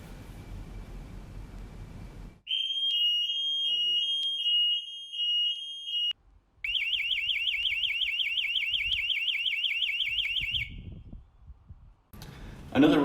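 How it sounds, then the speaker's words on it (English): A piercing electronic home alarm siren sounds close and loud during a test, first a steady high tone, then a rapidly warbling pulse, with brief noise before and after. "we'll test the sirens and make sure that they're all working"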